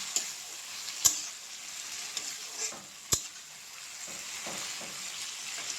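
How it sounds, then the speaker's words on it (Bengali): Taro stolons and jackfruit seeds fry quietly in a pan with a soft steady sizzle, broken by a few sharp scrapes and clinks of a spoon stirring against the metal, and no voices. "এখন দিয়ে দেব লতি আর কাঁঠালের বিচিগুলো, দিয়ে ভালোভাবে নাড়াচাড়া করতে হবে।"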